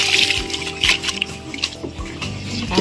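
Water is poured onto a pig's leftover feed on a farm, making uneven splashing and sloshing bursts close up with some trickling between.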